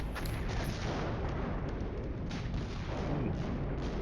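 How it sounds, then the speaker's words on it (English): Artillery fire in the Flashpoint Campaigns: Cold War wargame: a dense, continuous rumble of distant booms and blasts, steady and fairly loud with no clear separate shots. "And now the artillery is going to really give them a hard time."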